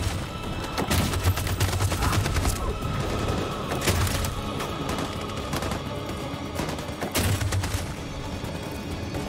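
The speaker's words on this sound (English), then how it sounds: "That machine gun is taking down everything that moves." Machine gun fire rattles in the video game Detroit: Become Human. Dense bursts of automatic shots mix with heavy booms and impacts over a continuous loud din of battle.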